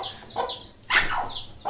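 A hen clucks among small chicks in a bird enclosure, close and fairly loud, with repeated short clucks and a brief rise in intensity mid-way; no speech.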